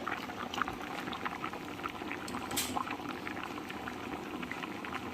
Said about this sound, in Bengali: দেখো তরকারিটা ফুটতে শুরু করেছে